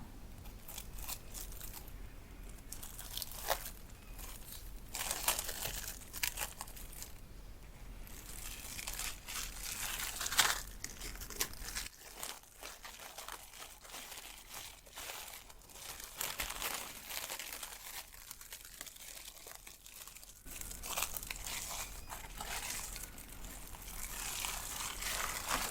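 Close, soft crinkling of plastic wrap as it is unwrapped from a hand during a hand massage, rustling continuously in irregular bursts with no talk.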